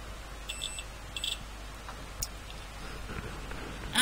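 A few short, faint electronic beeps from a multimeter continuity test on a TDA2020 amplifier sound in bursts over low background hiss, then a louder chirp at the end.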